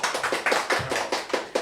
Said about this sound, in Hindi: क्या जोरदार तालियां